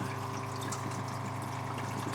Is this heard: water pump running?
yes